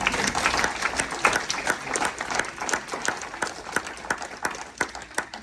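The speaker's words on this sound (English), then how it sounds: "let's give her a round of applause" Audience applauding at a nursing school pinning ceremony, a lively mix of distinct individual claps over a steady clapping bed, close and sustained.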